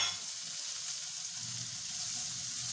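Tomatoes dropped into golden-brown fried onion and ginger give a soft, even frying hiss close by, with faint stirring rustles underneath and no voices.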